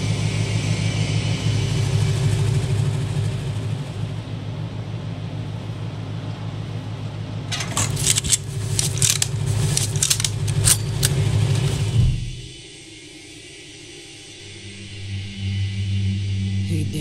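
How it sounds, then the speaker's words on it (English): A vehicle engine in Wasteland 3 rumbles low and steady for most of the stretch, with a burst of rattling, clanking noise in the middle before the rumble cuts out and returns more quietly. "Hear that engine rumbling,"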